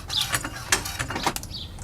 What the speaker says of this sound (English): We're now going to place the floor jack right under the control arm to compress the spring a little bit